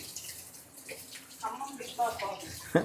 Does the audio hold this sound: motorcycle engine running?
no